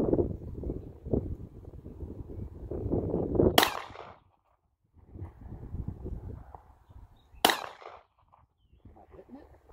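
Two sharp gunshots from a Glock 17 9mm pistol fired at a bottle outdoors, a few seconds apart, over wind noise and handling sounds.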